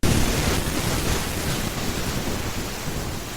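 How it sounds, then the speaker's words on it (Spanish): A spirit box radio sweeping the AM band gives a steady wash of loud, dense white-noise hiss and static that runs without a break through the whole stretch, with no voices. "escucháis ahí el ruido blanco"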